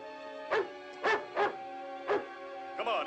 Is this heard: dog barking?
yes